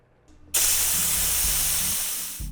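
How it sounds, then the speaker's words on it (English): Steam blasts from a pressure cooker on immediate release after cooking baby carrots, a loud, steady close hiss that starts abruptly and holds for about two seconds before easing slightly. "It takes about 2 minutes to release all of the steam so that you can open up your pressure cooker"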